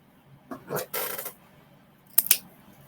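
Scissors snip ribbon for a Christmas wreath bow in a quiet room, with a few faint rustles followed by a couple of brief, crisp cutting sounds close by.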